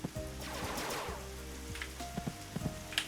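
Rain falling in the video game Dig or Die, a soft hiss of patter with scattered light drop ticks over low in-game tones, faint and brief.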